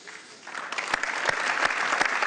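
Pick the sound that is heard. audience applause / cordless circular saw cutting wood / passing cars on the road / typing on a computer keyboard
audience applause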